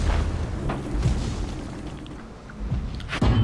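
Tank cannon shots boom in a tank video game, a few deep blasts landing around a Japanese heavy tank, one near the start and a louder close hit near the end over a low rumbling engine bed.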